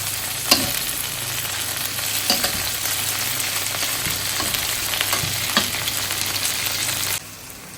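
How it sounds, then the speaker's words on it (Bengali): Okra frying in a pan gives a steady, close sizzle with a few sharp stirring scrapes, and there is no talking. "এই যে আমার ঢেঁড়স ভাজি হয়ে গেছে"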